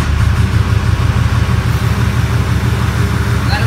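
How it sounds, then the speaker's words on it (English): A FASS fuel pump runs on a Toyota Tundra CrewMax truck with the engine idling, giving a loud, steady low drone with a constant mechanical hum throughout and no pauses. "you can hear it pumping fuel"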